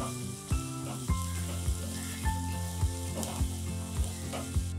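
Sliced onions with salt frying in a pan for chicken do pyaza, a steady sizzle under regular, evenly spaced scraping strokes of a spatula, close and moderately loud.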